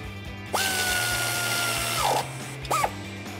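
A power tool, likely an impact driver or drill, tightening the top three strut bolts on a 2009-2014 Ford F150 during a Rough Country 4-inch lift install: a long whirring run of about a second and a half, then a short second burst, close and loud.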